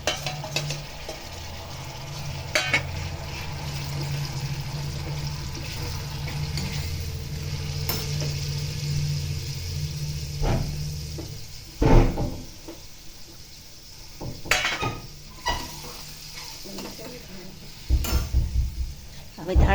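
Puréed tomatoes go into a hot frying pan with boiled corn and get stirred, giving a steady low sizzle broken by sharp scrapes and clinks of the spoon against the pan.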